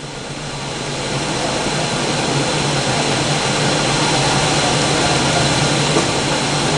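A Verteq 1800 spin rinse dryer spins up toward 1200 RPM, its steady broadband whoosh and motor whine swelling over the first second and then holding loud and even.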